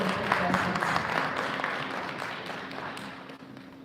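An audience at a business forum applauds panelists with steady, dense clapping that fades slightly toward the end.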